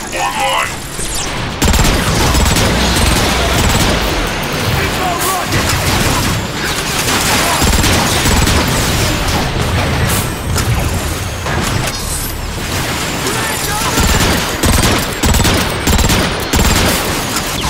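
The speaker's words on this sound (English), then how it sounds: "Curious as to what an artillery strike would do to that marauder." Artillery strike explosions and heavy weapon fire hitting a marauder in the PC game Transformers: Fall of Cybertron, a loud, dense, continuous barrage of booms and rapid blasts with voices talking over it.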